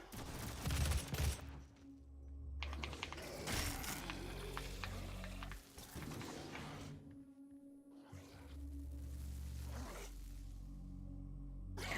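Gunfire in the video game DOOM comes in rapid bursts and sharp repeated shots, loud and close, with gaps of quieter game ambience between volleys.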